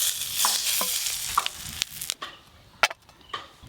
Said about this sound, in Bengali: এই যে ডিম ভাজতেছো